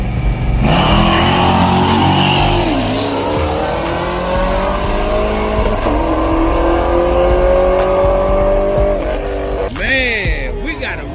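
A Camaro engine revs hard and loud at an amateur street-track race, its roaring pitch climbing under tire noise and crowd chatter, with voices talking over it throughout.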